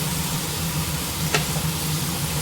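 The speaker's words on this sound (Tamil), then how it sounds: "முத்தம்பருப்பு கருவேப்பிலை இதை நல்லா வறுத்துக்கலாம்" Chana dal, urad dal, curry leaves and dried chillies dry-roasting in a kadai give a soft, steady hiss, with one brief scrape of stirring partway through and no voices.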